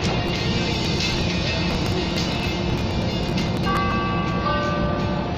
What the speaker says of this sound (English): This is a brown line train to the loop.